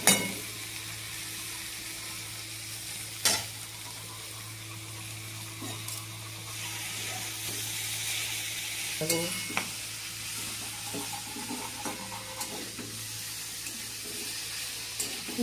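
Fresh fenugreek greens frying in a pan, a soft hissing sizzle with occasional stirring scrapes and a few sharper clatters, fairly quiet and steady throughout.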